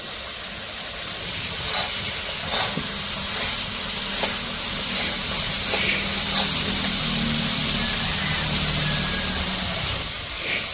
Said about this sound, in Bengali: আর মশলাটা কষে নেব ভালো করে